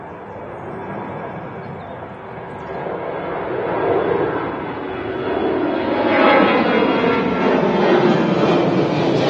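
EasyJet Airbus A320 jet airliner bound for Athens at Manchester Airport, a broad engine roar and rushing noise that slowly swells as the aircraft moves, heard from a distance without talk.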